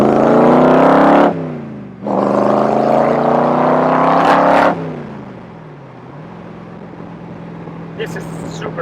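A powerful Shelby Cobra replica sports car engine revs hard and close, climbing in pitch, dropping briefly between gear shifts, then settling into a lower rumble.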